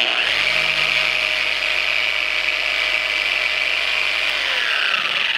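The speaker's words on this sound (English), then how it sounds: "This is a fantastic polisher, and again, I can use one hand." A dual action car polisher runs steadily through one-handed paint correction with an entry-level machine, giving a loud, continuous whirring drone without a break from start to finish.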